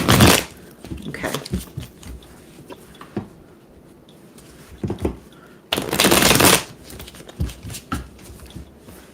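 Tarot cards are shuffled by hand in repeated bursts of riffling and sliding, some loud and close, with quieter handling sounds and pauses between the bursts.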